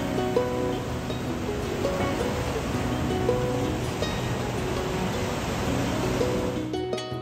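Ocean surf at Richardson's beach in Hilo, Hawaii washes in as a steady, soft broadband hiss, with faint tonal sounds running underneath throughout.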